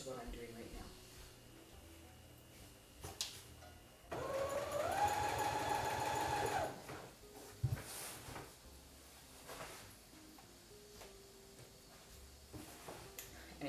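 A sewing machine stitches a rolled hem on a heavy blackout ripplefold linen drapery panel. One steady mechanical whirring run lasts about two and a half seconds, set among quiet fabric handling, clunks and murmured speech.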